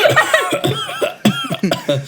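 A voice imitates a wheezing, hacking cough in several rough bursts, close and loud.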